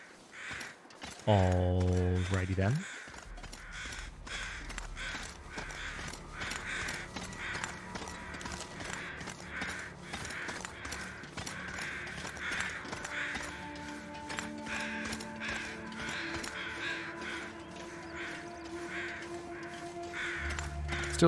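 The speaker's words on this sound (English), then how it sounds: "Some straight flying crows." Crows in the video game The Long Dark cawing in repeated harsh calls over a quiet outdoor ambience, after a short low musical swell at the start, with someone briefly speaking.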